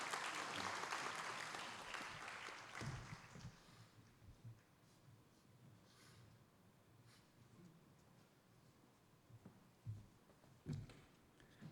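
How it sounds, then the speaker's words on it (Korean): An audience applauds in thanks at a university vision ceremony, a moderate wave of clapping that fades after a few seconds into quiet room noise with occasional thumps. "우리 박수로 한번 감사를 표시해주겠습니다."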